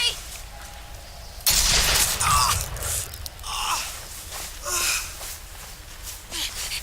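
Gunfire erupts in The Walking Dead video game: a sudden loud blast followed by a few further bursts spaced over several seconds, mixed with shouting and game voices.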